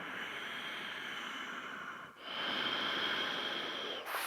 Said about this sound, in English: 3, deeper breathing.